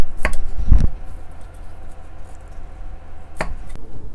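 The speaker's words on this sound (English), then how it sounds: "let's remove the roots from all the onion except for this one" A knife chops through onion roots on a cutting board in a few sharp, close knocks early on, then a lone pair of cuts near the end, with a quiet room between strokes.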